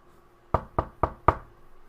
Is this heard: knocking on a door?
yes